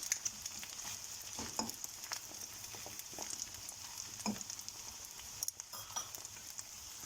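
Eggs and cheese frying together in a pan give a steady, soft sizzle with scattered small pops and crackles, close and fairly quiet, with no talking.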